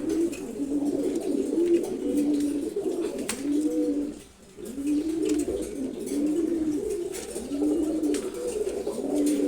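Silver gola pigeons, a pair, give rhythmic repeated coos up close, each throaty phrase rising and falling, with one short pause partway through.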